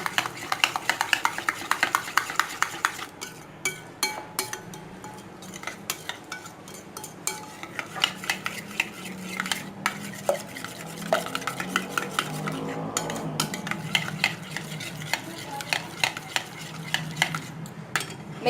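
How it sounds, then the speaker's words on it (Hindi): Spices and salt being stirred together in a bowl for a chicken marinade, a busy run of spoon clinks and scraping against the dish, irregular and close, with occasional faint voice in the background. "इन सब तमाम मसालों को मिला के बहुत अच्छी तरह से मिक्स कर लें"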